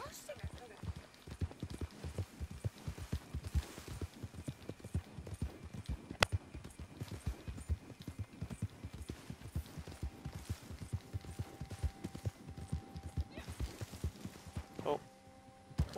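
Rhythmic hoofbeats of a galloping horse in the video game Red Dead Redemption 2 Online clatter steadily throughout, fairly quiet, with a few brief tones and a louder moment near the end.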